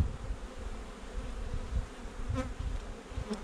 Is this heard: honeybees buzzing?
yes